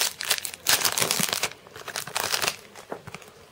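Crinkling and tearing of a Yu-Gi-Oh Photon Shockwave booster pack's foil wrapper as it is opened, close and loud in bursts of crumpling, with no talking.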